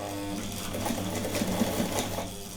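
Sewing machine running steadily while stitching cotton face masks, a continuous whirring hum with a light mechanical patter throughout, fairly close and alone.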